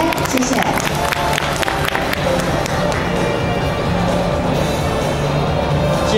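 An audience at a Rotary club joint meeting claps in sustained, dense applause lasting throughout, with a voice speaking over the clapping.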